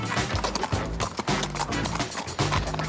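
A ridden horse's hooves clip-clop in a quick, uneven rhythm, close and fairly loud, with occasional snorting or movement noise in between.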